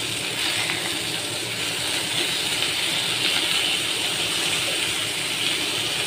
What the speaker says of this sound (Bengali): তো মাছগুলো আমি ভাজতে দিয়ে দিলাম, ভাজা হোক